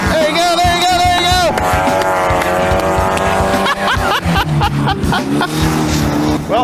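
A 1985 C4 Corvette-powered kart roars up a hill climb, its engine note rising and shifting loudly and continuously throughout, with excited voices shouting over it.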